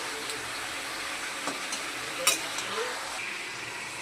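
Mutton and chopped tomato frying in a spicy curry, giving a steady close sizzle and hiss with a few light stirring knocks and one sharp clatter partway through.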